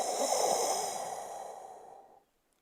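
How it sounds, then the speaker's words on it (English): Elephants sucking up water through their trunks in a group near a river sandbank, a single breathy snorting draw that fades over about two seconds and ends in silence. "As they suck up water in their trunks, it sounds like this."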